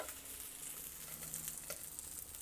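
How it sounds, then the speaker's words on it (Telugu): Stuffed bajji chillies fry in a covered pan with a steady, soft sizzle and faint crackle, a continuous hiss that holds an even level with scattered small pops and no talking. "మళ్ళీ మూత పెట్టి పూర్తిగా మగ్గే వరకు వేయించుకోవాలి."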